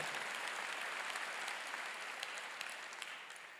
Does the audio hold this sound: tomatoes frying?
no